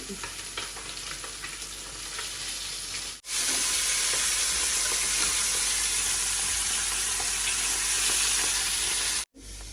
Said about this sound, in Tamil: மீன் பொரியல் சரியான ஒக்கே ஆனது